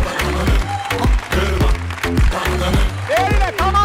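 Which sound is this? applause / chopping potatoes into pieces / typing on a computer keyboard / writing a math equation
applause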